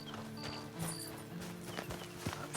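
Horse hooves clip-clop in Red Dead Online, a steady sequence of close, distinct hoofbeats on hard ground over low game ambience and soft tonal sounds.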